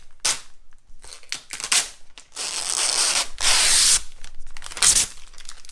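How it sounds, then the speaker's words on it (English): Protective plastic film is peeled in uneven tugs from a hard-coat polycarbonate half windshield for a 2020 RZR XP Pro, giving crackling, tearing bursts of varying length with short pauses between, close and fairly loud. "Take off the plastic."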